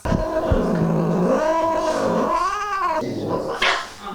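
An injured cat, recovering from gunshot wounds, gives a long, loud caterwauling growl close by, its wavering yowl rising and falling continuously before ending in a brief hiss.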